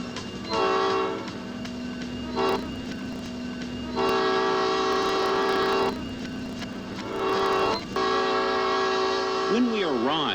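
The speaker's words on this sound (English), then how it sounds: "Okay, Belmont Coal Train." A Belmont coal train on the Saluda Grade mountain railway, its horn sounding in several loud, sustained blasts separated by pauses, over a steady rumble of the train.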